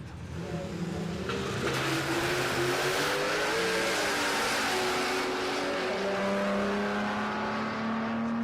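A supercharged Chevy drag car makes a pass at Palmyra Raceway, its engine a loud, continuous roar with rising harmonic tones as it accelerates down the strip, the pitch climbing and then holding high to the end.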